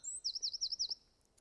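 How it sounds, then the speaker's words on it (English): Songbirds chirping outdoors, a loud high warbling call repeated in quick rhythmic trills, followed by a few faint distant chirps in quiet surroundings. "or listening to the birds."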